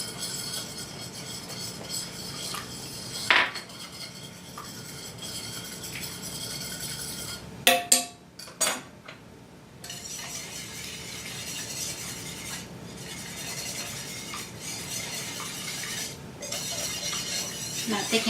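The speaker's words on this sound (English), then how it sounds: "I mix my broth and my arrowroot." A utensil stirs a simmering broth and arrowroot mixture in a pan, giving steady scraping and bubbling with a few sharp metallic clinks against the pan midway.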